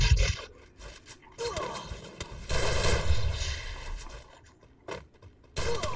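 Shotgun blasts from the battle royale game Free Fire crack out in several loud bursts with irregular gaps, layered with other gunfire and game effects, and faint talk underneath.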